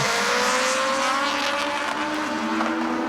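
A front-wheel-drive rallycross car with a 1600 engine making about 240 horsepower races at the Catalunya World RX round, its engine held at a loud, steady high-rev drone with gear changes and tyre noise.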